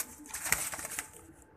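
Pigeon cooing in a small loft where birds are being handled and inspected, a few soft close coos with faint rustling, fairly quiet throughout.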